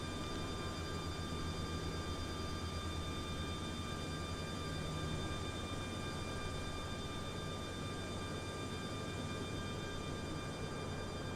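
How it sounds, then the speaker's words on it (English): Airliner jet engines with LEAP-1 and Pratt & Whitney engines hum in Microsoft Flight Simulator 2020, a constant steady drone with fixed tonal whines and low rumble, unchanging throughout and with no talking. "There's Leap 1 Pratt Whitney engines right there."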